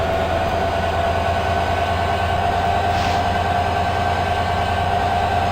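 Simulated passenger train rolling in the ORTS train simulator on the Surfliner route to San Diego, a steady continuous rumble and rail drone with a faint brief hiss midway, no talking.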